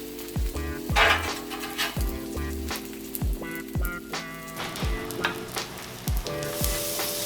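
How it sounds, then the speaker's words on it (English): Eggs fry on a 36-inch Blackstone griddle with a steady, close sizzle, punctuated by a regular series of low thumping pulses throughout. "While those eggs are cooking"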